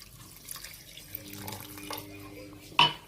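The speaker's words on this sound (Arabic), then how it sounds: "وغنزيد دابا كاس الا ربع ديال الماء" Water is poured into a cooking pot while a Moroccan-style kabsa is made, a soft trickle and splash close by among light kitchen clatter, ending with a brief louder clink.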